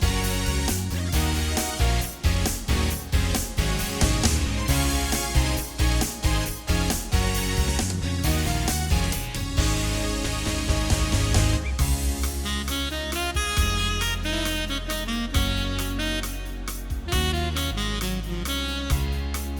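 A Yamaha Genos keyboard plays a 2016 Entertainer pack Party Rock style: full, loud backing band with steady driving drums, bass and layered synth chords, continuous for about twenty seconds with a brief shift midway, no voices.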